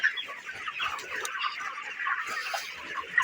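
Several broiler chickens cluck and chatter continuously at close range, a dense overlapping flock sound with no talking.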